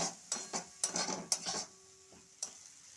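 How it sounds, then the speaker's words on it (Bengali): A spice paste for a bhola fish curry is sautéed in a pan with a splash of water and stirred, producing a few quiet, close scrapes and light metallic taps. "মশলাটা যাতে না পুড়ে যায় আমি একটুখানি জল দিলাম, দিয়ে ভালোভাবে মশলাটা কষে নেব।"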